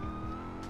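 A police car siren sounds as a steady drawn-out tone, heard faintly under engine rumble while riding a motorcycle in the street.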